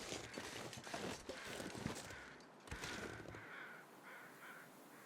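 Crows cawing in the survival video game The Long Dark, a few harsh caws over wind-like ambience and crunching footsteps, moderately close.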